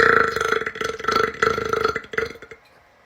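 One deliberate, prolonged burp from a man, loud and close, rolling on for over two seconds in a rough, pulsing rhythm before cutting off, with no talk over it.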